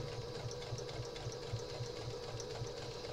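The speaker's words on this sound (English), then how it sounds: "I could just sit at this sewing machine all day long." Sewing machine stitching a quilt block, a steady, rapid mechanical whir with a fast rhythmic needle beat, close and continuous with no talking.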